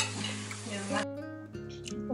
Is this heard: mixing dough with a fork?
yes